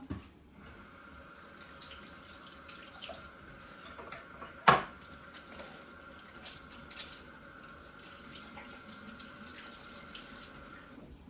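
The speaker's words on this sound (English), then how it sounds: "Wash your hands." A kitchen sink tap runs steadily while hands are washed under it, a soft constant water stream with one sharp clunk of dishes near the middle, close and alone without talk.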